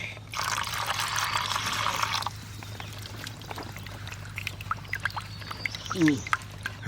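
A splash of boiling water is poured into a pan while cooking steamed hilsa fish. A steady close pour runs for about two seconds, then quieter clinks and drips follow, with a brief voice near the end.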